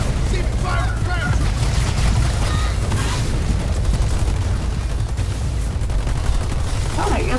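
Dense, continuous battle gunfire and booms from the video game Halo Wars 2 roar without pause, with in-game voices speaking over the din.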